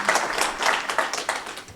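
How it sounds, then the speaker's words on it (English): Audience applause at a conference session during a resilience share fair in Nairobi, a steady patter of many hands clapping at moderate volume for about two seconds, with no talk over it. "I think all of us deserve another round of applause."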